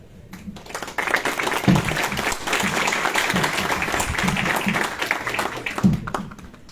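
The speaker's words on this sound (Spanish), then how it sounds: "Aplauso" Audience applause at a Spanish-language university conference, a dense sustained wash of many hands clapping that swells after the first second and holds steady for several seconds before tapering, with no speech over it.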